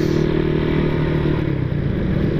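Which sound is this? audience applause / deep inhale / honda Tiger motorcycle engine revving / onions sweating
honda Tiger motorcycle engine revving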